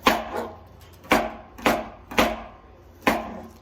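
A knife cuts through apple pieces on a cutting board in five sharp, separate chops, each one a crisp close knock with brief pauses between, and no talking.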